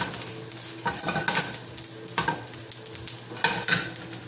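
Garlic fries in hot oil with a crackling sizzle, broken by bursts of stirring scrapes and louder spatter at irregular intervals.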